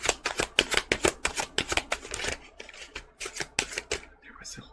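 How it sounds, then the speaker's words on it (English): Tarot cards being shuffled by hand, heard as a quick run of crisp, rhythmic riffling bursts, then a short pause and a few more shuffles close by. "Let me shuffle these again."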